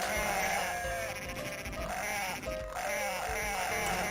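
Sheep bleat in the Dreamcast game Cool Herders, several overlapping animal calls layered over busy, loud game music and effects that fill the whole stretch.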